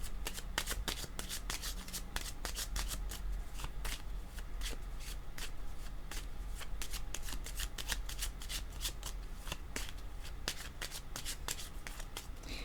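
A deck of tarot cards being shuffled, with dense, rapid riffling and flicking of cards running steadily and close by, unbroken from start to end, with no talk.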